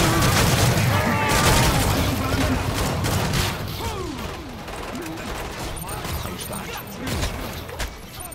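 Rapid bursts of video game gunfire crackle densely during a boss battle, loudest early and then thinning into scattered shots and booms. A player's voice talks over parts of it.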